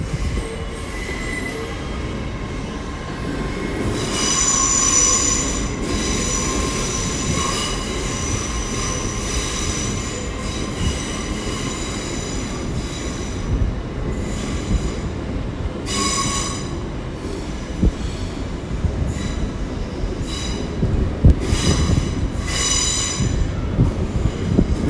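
An IET passenger train at London Paddington station rolls through with a steady rumble, wheel squeal and repeated high screeches from the rails, continuous for the whole stretch with no talking.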